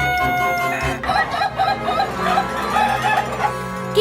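A real rooster crowing, a loud close cock-a-doodle-doo with a strained rising call, over a farmyard background of clucking and other birds.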